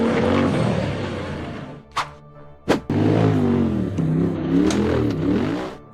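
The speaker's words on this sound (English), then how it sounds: "The buggy accelerated hard up the rocky dirt trail" An off-road buggy accelerates hard up a rocky dirt trail, its engine roaring loudly and close with rising revs, broken by two sharp knocks as it drops off, then a roaring climb again.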